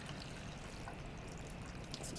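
Coconut water pouring into a blender jar in a steady, continuous stream with a faint splash, close and alone without speech.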